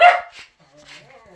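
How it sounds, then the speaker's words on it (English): A dog gives one loud, close bark and then a softer yip. A fainter whimper follows as the dog calms in a kitchen where a pepper grinder is in use. "Sorry about the dog. He's crazy."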